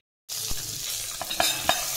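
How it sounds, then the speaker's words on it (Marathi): Whole spices hit hot oil in a kadhai for a cashew masala curry, bursting into a steady close sizzle after a moment of silence, broken by a few sharp clinks of a spoon stirring against the metal. "खडे मसाले फ्राय केल्यानंतर"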